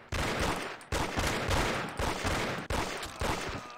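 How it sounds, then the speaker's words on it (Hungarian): Sustained automatic gunfire in the Mafia: The City of Lost Heaven game, loud continuous bursts broken by brief gaps roughly every second, with no talking. "Tök jó, hogy 500 lövés múlva hal meg."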